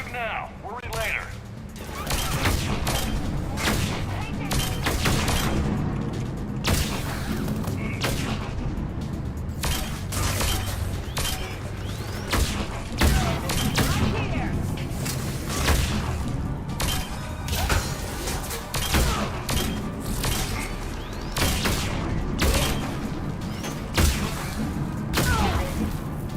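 Gunfire from the video game Mass Effect 3, rapid repeated shots and impacts over a steady game soundscape, close and loud, with voices talking throughout.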